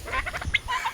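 Chickens cluck in short bursts over a farmyard, several soft overlapping calls from nearby birds at moderate volume, with no talking.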